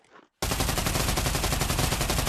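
Submachine gun in the VR shooter Pavlov firing on full auto, a loud, dense, unbroken burst of rapid shots that starts abruptly after a brief faint murmur and holds steady to the end.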